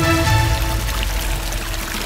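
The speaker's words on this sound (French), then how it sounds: "un ruisseau qui menace de déborder alors que l'hiver est à nos portes" A small stream near overflowing as winter approaches rushes in a dense, steady, close wash of flowing water with a low rumble underneath.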